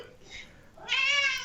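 A cat meows near a phone, a soft faint call followed by a louder, drawn-out meow that ends the moment.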